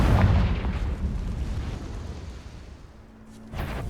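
Confringo fire spell explosions in the Hogwarts Legacy video game, a loud booming blast at the start that decays into a rumbling tail, followed by a second burst near the end.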